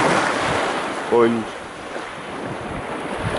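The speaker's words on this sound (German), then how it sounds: "Und gebe euch noch einen wunderschönen Eindruck vom Meer." Sea surf on a beach in Turkey makes a steady, broad wash mixed with wind noise on the microphone, and a voice speaks briefly near the start.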